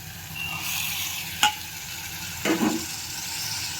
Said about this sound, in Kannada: ಶುಂಠಿ ಬೆಳ್ಳುಳ್ಳಿ ಪೇಸ್ಟ್ ಆದ ತಕ್ಷಣ ಒಂದು 2 ನಿಮಿಷ ಬಿಡೋಣ ಫ್ರೈ ಆಗೋಕ್ಕೆ